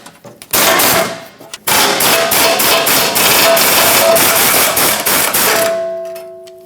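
An impact wrench on 16mm bolts holding the skid shield of a 2008-2012 Jeep Liberty: loud close rattling bursts, one short then a long sustained run, ending in a fading whine as it spins down.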